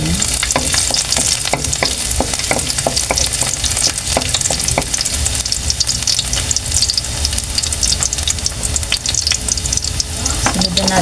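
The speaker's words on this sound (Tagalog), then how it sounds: "gisa po muna natin itong ating mga ricado" Garlic and aromatics sauté for spicy beef caldereta, a loud, steady sizzle with scraping stirs and clinks of a utensil in the pan throughout.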